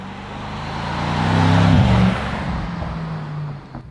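A Mercedes E63 S AMG with a 621 hp engine cruises at about 250 km/h, a steady engine drone and rushing wind roar that swells midway, then settles.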